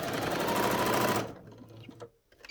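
Sewing machine stitching down a pleat on a tartan doll skirt: a loud, steady close-up run of rapid stitching that stops abruptly partway through, followed by faint handling noises.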